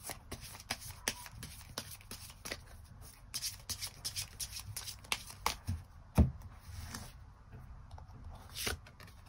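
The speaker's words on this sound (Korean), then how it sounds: "추가 카드 뽑아보도록 하겠습니다" Tarot cards being shuffled by hand, a steady run of crisp riffling and flicking with a few sharper slaps, close and fairly quiet with no talking.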